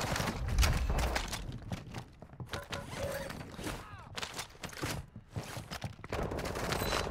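Gunfire in Call of Duty Modern Warfare II on the Tsuki Castle map comes as repeated sharp shots and short bursts, close and loud, with clanks and footsteps between volleys.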